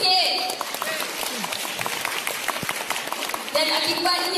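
Crowd applause fills a business recognition rally hall, a steady dense clatter of many hands through most of the stretch, with voices and cheering rising over it near the start and end.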